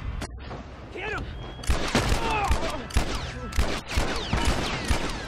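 Gunfire in The Last of Us during a fight with raiders, several loud shots landing at irregular intervals amid busy game sounds, with someone talking over parts of it.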